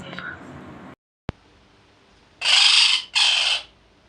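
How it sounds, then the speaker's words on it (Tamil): A parrot lets out two loud, harsh, closely spaced vocal bursts after a faint click and a moment of quiet, heard near and alone. "இதுதான் கிளி பேசுற சத்தம்"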